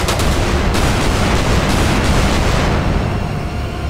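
Helicopter being shot and exploding in the video game GTA San Andreas, a loud sustained blast of booming rumble and crackle with no pause.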